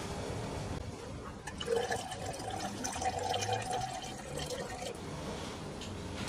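Water is poured into oil in a small home experiment, heard as a continuous liquid pouring and trickling sound under low background noise, fairly close.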